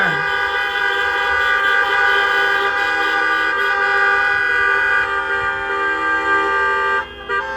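Car horns honking at an outdoor political rally in Tucson, a sustained loud blare of overlapping horns held for several seconds before cutting out near the end.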